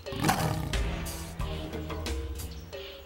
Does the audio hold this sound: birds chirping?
no